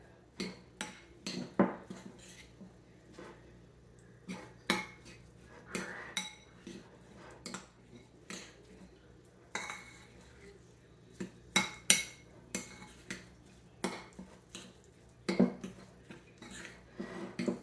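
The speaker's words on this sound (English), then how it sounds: "we're just gonna give this a stir" Utensil clinking and scraping against a bowl while sunflower seed "tuna" salad with cracked pepper is stirred, in irregular bursts of light metallic taps and knocks over a quiet room background.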